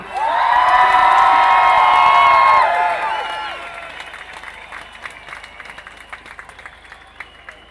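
A rally crowd bursts into loud cheering, whoops and applause, high shouting voices ringing out for a few seconds before fading to scattered clapping.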